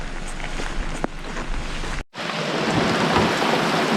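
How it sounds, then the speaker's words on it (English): Rain patters steadily at a lakeside campsite on the Gunflint Trail in northern Minnesota, a dense close hiss of drops on surfaces that briefly cuts out and then returns slightly heavier. "Light rain."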